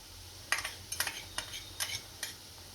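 Sliced onions with ginger-garlic paste cook in a pan, with a handful of sharp, evenly spaced stirring scrapes over a faint sizzle and no voices.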